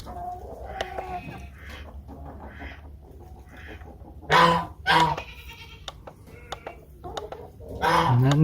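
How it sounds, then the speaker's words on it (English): Chickens clucking and calling intermittently nearby, with a couple of louder squawks and faint background noise. "Nothing but chickens, looks like."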